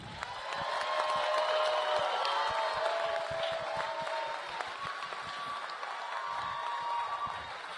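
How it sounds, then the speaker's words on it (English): Sustained crowd applause fills a hall at a student honor society's new member induction ceremony at GCU, steady and fairly loud throughout with scattered cheers mixed in. "Let's give our new members a round of applause."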